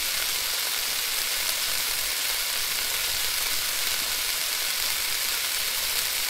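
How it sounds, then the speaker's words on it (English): Steady, dense sizzling of food frying in a pan inside the Cooking Simulator game, a continuous hiss at even loudness throughout with no talk over it. "Sounds like someone's cooking."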